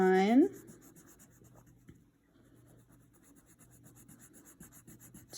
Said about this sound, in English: we're going to shade in our 4 pie slices